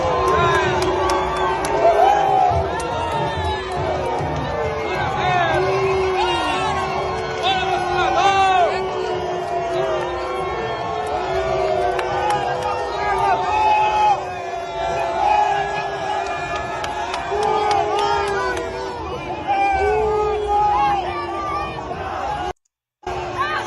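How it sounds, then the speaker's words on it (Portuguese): Large crowd at the 2 de Julho parade in Bahia jeering and shouting in unison, a sustained roar of voices with rising and falling chants, loud and outdoors, briefly cutting out near the end. "E o pessoal foi recebido com vaia"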